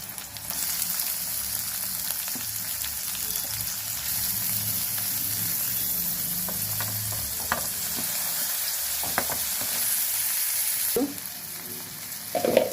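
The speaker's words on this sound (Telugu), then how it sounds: "ఇప్పుడు కొంచెం ఆయిల్ పోసుకొని ఉల్లిపాయలు వేగిస్తావా" Onions and green chillies fry in oil, giving a steady, close sizzle that runs unbroken throughout with occasional soft clicks and stirring touches, and no one talks.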